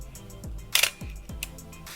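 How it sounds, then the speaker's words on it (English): A single-lens reflex camera with a 135 lens being cocked and fired, giving a few sharp mechanical clicks and one louder snap of the shutter, close up with no talk. "when you cock it and you hit the shutter"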